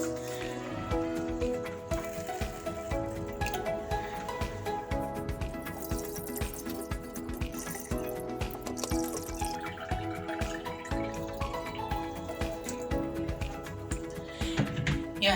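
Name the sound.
washing rice in water before boiling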